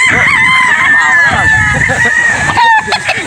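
A game-farm rooster crows, one long, loud, nearby call with a wavering pitch, while someone talks over it.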